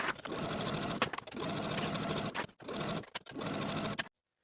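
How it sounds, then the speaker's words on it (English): A sewing machine edge-stitches around the hem of a peplum blouse, whirring in several steady bursts separated by brief pauses, close and clear with no talking. "Edge stitching all the way around along your inner fold."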